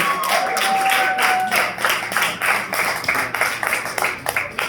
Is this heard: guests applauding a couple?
yes